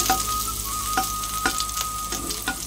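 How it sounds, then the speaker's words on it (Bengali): A little garlic frying in hot white oil, a close, steady sizzle with a faint tonal hum and regular stirring clicks about every half second. "এর মধ্যে সাদা তেল দিয়ে দিচ্ছি অল্প করে, তেলটা গরম হয়ে যাক। একটুখানি রসুন দিলাম"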